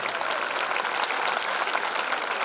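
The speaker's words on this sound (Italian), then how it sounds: "Allora, prendetevi l'applauso." Concert audience applauding in a steady, dense burst of many hands clapping, loud and continuous from start to finish with no voices standing out.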